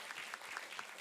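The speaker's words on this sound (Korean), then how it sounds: "우리 공부하는 학생들도, 우리 청년들도 우리 한번 격려의 박수 하십시다" Brief, fairly faint clapping from a church congregation at a Korean Sunday festival worship service, a few distinct rhythmic claps spaced evenly in a quiet hall.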